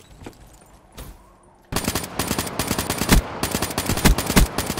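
Bursts of automatic gunfire from Call of Duty: Black Ops 3 multiplayer, starting faintly with a few scattered shots, then turning into a loud, dense, continuous rattle of rapid shots for the rest of the stretch.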